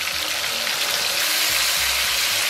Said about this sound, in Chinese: 小火给它炒出红油。